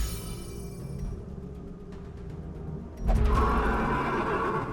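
A horse in the Darkest Dungeon video game lets out a loud, close whinny that rises suddenly partway through, over a low game background hum.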